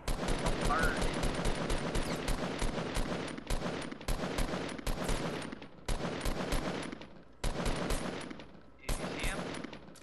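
Rapid gunfire and explosions crackle in a shooter video game, dense bursts of shots broken by short pauses, with players talking over the action.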